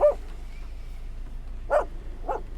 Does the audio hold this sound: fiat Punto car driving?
no